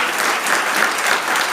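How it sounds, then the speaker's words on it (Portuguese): A church congregation breaks into a burst of applause, a dense, steady wash of clapping that fills the room for the whole moment with no voices over it. "Então dá um aplauso a Jesus."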